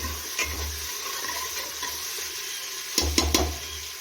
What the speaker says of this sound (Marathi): सर्व तेलामध्ये फिरवून घेऊया